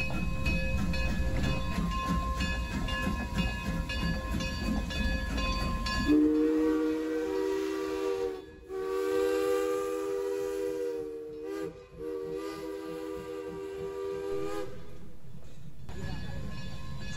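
K-36 Mikado steam locomotive number 482 moving out of the roundhouse at the Durango depot in Colorado, a rumbling chuffing engine followed by a long steady chime whistle that blows twice, loud and close.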